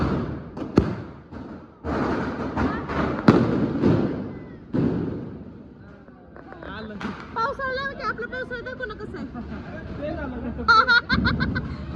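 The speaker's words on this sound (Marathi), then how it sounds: "आम्ही कापूस घातलेत कारण बॉम्ब एवढे जोरात वाजतात" Loud firecrackers burst with sharp booms and heavy thuds close by, mostly in the first half, while people talk and laugh over and between the blasts.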